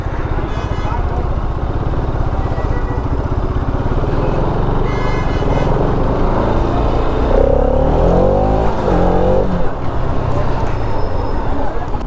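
Busy Sunday road traffic near Yercaud lake, with car and motorcycle engines revving and passing close by in a loud, continuous stream, heard beneath a person talking.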